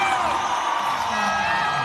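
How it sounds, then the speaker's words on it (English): Basketball crowd at an MPBL game in the Philippines, Valenzuela vs Abra, roaring and whooping in approval, a dense sustained wall of cheering voices filling the arena throughout. "And the crowd roars in approval for Trinidad, showing the way to the rack on that attack"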